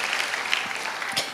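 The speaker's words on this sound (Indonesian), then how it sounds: "Kasih tepuk tangan yang paling meriah buat Allah kita." A church congregation bursts into dense, steady applause during a sermon, a loud continuous wash of many hands clapping together with no speech over it.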